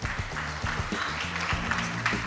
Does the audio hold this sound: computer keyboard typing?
no